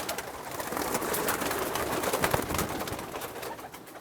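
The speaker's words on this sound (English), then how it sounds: "the Steph Van Reed pigeons." Van Reed racing pigeons coo in a loft, a steady, busy chorus of overlapping throaty calls filling the whole stretch at close range.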